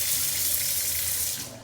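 Water gushes steadily from a tap into a stainless steel kitchen sink, a loud close hiss that tapers off at the end, with no talking.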